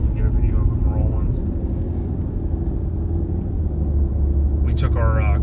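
A 1965 Lincoln custom car rolls by with a steady, loud low engine rumble throughout, and faint voices are heard briefly near the start and end.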